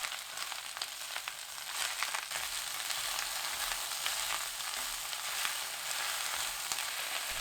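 Lettuce stir-frying over high heat in a pan with fine salt, a continuous even sizzle and crackle heard close up and alone, fairly soft with no speech.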